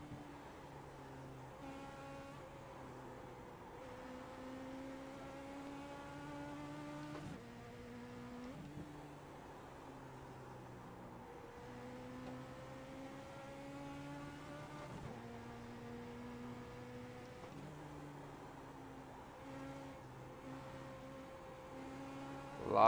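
A Legends Ford Coupe in iRacing holds a steady engine drone that climbs in pitch under throttle. It drops sharply at each gear change, about every four seconds, in a repeating downshift and upshift cycle, heard from inside the car.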